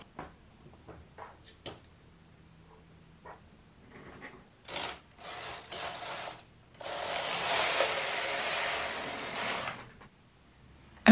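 A domestic knitting machine carriage knits a single row while a dress is being made: scattered clicks and small clacks lead into a few short mechanical bursts, then a sustained, fairly loud rushing slide of a few seconds, ending in quiet.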